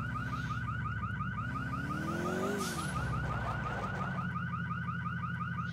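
A car alarm blares in GTA IV, its repeating electronic whoops cycling steadily and loudly over a low engine rumble, with no one talking.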